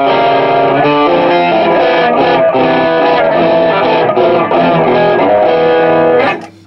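An electric guitar played through a Zoom G5n multi-effects unit with a double delay effect, giving loud, sustained, distorted chords with repeating echoes for several seconds before cutting off abruptly.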